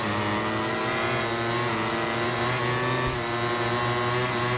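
A Ducati motorcycle approaches in the MotoGP 21 racing game, its loud, high-revving engine droning continuously with a steady, buzzy pitch and slight shifts in tone.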